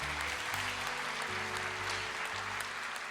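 A church congregation claps during a worship service, a continuous spread of applause over low sustained tones from music or an organ-like drone, heard at a moderate distance.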